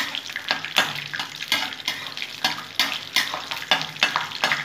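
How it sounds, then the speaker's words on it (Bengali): Suji being fried in a pan for spicy upma: a steady, close sizzle with rhythmic scraping stirs repeating every half second or so, no talk. "এটা একটু ভেজে নেবো।"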